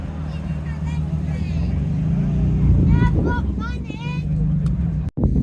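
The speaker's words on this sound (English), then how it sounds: "Do you like the sound of that Nissan V6?" A Nissan V6 car engine idles with a steady low rumble at an outdoor classic car show, while people talk nearby over it.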